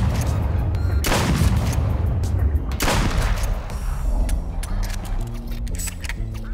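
Shotgun blasts ring out during a duck hunt, two loud booming shots about two seconds apart followed by mechanical clicks and handling noise, with a voice talking in the background.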